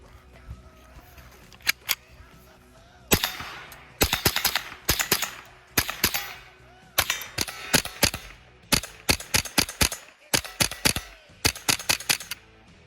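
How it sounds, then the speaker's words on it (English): A Ruger 10/22 semi-auto rifle fires many sharp gunshots in quick rhythmic strings with brief pauses between groups, loud and close, after a couple of isolated early shots. "So we're gonna load it back up, shoot some more"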